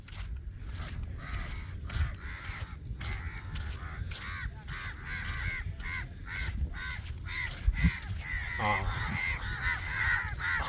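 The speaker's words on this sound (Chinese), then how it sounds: "好多乌鸦" A large flock of crows caws repeatedly around a forested lakeside fishing spot at Forest City, Johor. Overlapping harsh calls come near and far over a constant rushing outdoor background.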